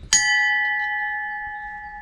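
A small bell, one of a collection of national bells, is struck once close by, giving a clear, bright ding that rings on with a steady, slowly fading tone.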